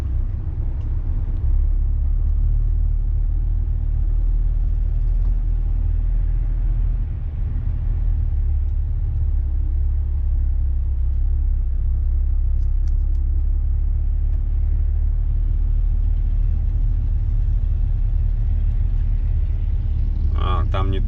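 A steady low road rumble of cars struggling on a snowy, icy road where an empty car carrier is stuck on the incline. Traffic noise stays loud and continuous throughout, with people talking over it.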